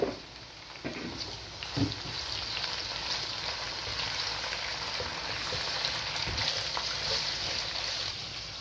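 Onions hitting a hot pan with bitter gourd, sizzling in a steady hiss that keeps going, with a few clanks of a spoon near the start.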